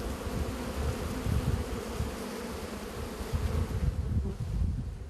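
Honeybees from a commercial apiary buzz densely around their hives, a steady close swarm drone that thins slightly near the end, with no voices.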